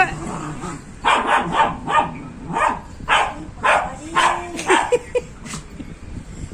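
Loud, close dog barking in repeated bursts, roughly eight sharp barks with short gaps, some turning into yips and whiny growls between them, with no talking.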